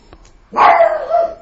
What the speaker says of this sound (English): That's my dog saying good and hello.